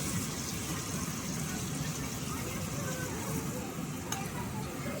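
Water poured into a hot pan of vegetables cooking in oil, a steady hissing sizzle that holds evenly throughout, close and fairly loud.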